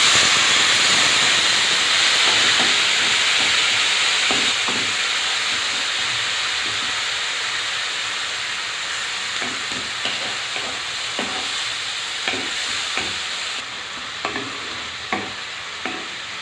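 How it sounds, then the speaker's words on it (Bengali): Spices in hot oil for aloo puri give a loud, steady sizzle and hiss as water goes in, then it gradually quiets while a spoon scrapes and stirs the pan in repeated short knocks toward the end. "এবারে জল দিয়ে দেবো।"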